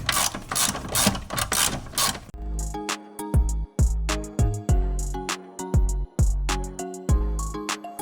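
A hand ratchet clicks in quick bursts while loosening 10 mm bolts on the intake of a Honda Civic. Close rapid ratcheting comes first, then slower, separate clicks and pauses.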